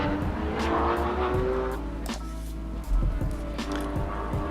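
Porsche 911 GT2 RS in the racing game Assetto Corsa, its engine roaring steadily up close with brief tire squeal and a sharp jolt partway through.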